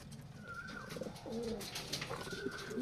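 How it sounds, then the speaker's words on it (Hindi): Domestic pigeons in a home loft coo and murmur in soft, repeated calls close by, with a faint busy background and no speech. "बहुत ही प्यारे प्यारे और बहुत ही सुंदर कबूतर है भैया के यहाँ"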